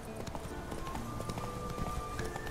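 Roach, the horse in The Witcher 3, gallops with steady, rhythmic hoofbeats close by over faint background ambience.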